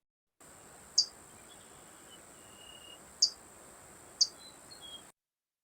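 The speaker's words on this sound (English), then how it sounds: "the hooded warblers have a really distinctive chip note" Three sharp, metallic chip notes from a hooded warbler, spaced a second or two apart in a summer Shenandoah forest, each one clear and isolated over a faint steady insect hum.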